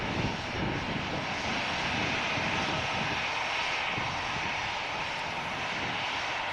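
A fixed-wing airliner's engines roar steadily as it climbs out after takeoff from Manchester Airport bound for Paris, a loud, sustained drone holding without a break.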